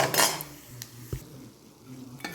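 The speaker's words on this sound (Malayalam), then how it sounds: "ഇനി ഇതൊരു പാത്രത്തിലേക്ക് മാറ്റി കൊടുക്കാം" Crispy fried prawns are scooped from the pan into a dish, with a few close clinks and scrapes of a metal utensil against cookware, spaced out over a quiet background.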